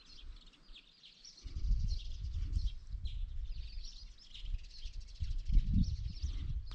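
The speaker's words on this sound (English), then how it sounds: "You can hear the birds." Distant birds chirp and sing at dawn in a high, thin chorus over a low rumbling background, steady and fairly faint, with no talking, in the Cederberg hills.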